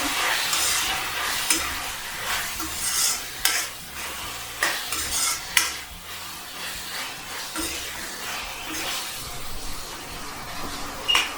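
A spoon scrapes and clinks steadily against a pan while hakka noodles with spices sizzle softly underneath; no voices.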